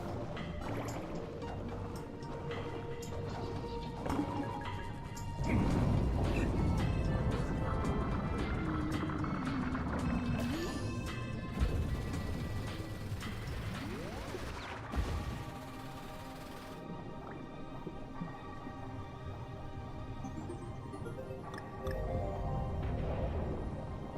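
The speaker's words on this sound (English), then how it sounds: "Y'all hear that original classic Donkey Kong water level in the background?" Music from the original Donkey Kong water level plays in the background of Donkey Kong Country Tropical Freeze gameplay, with sustained tonal melody and soft watery drips and splashes layered over it.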